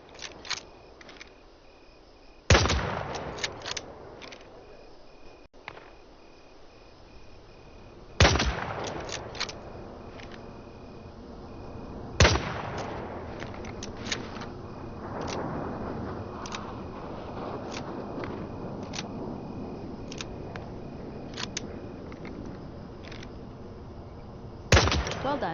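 Four sharp, loud bolt-action rifle shots in the Vietnam-era shooter game Hell Let Loose, spaced several seconds apart with long ringing tails, over a steady bed of insect and cricket chirring in a jungle setting.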